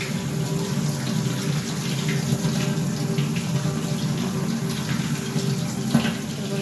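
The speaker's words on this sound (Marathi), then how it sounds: "हे आपल्याला पाण्याने आता स्वच्छ धुवून घ्यायचं आहे" Water runs steadily as peas, cowpeas and flat val papdi beans are washed clean, giving a continuous, even splashing flow at close range with no talk.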